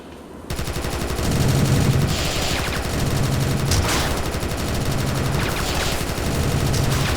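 Anti-aircraft gunfire in the video game TimeSplitters 2 rattles on in loud, rapid automatic bursts, with a steady mechanical drone underneath and heavier shots punctuating the stream.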